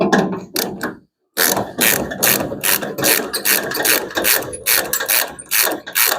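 A ratchet works a nut off a fender on a 1975 Hemi Plymouth Duster, loud rapid clicking in steady bursts with one short pause, close up and without talk.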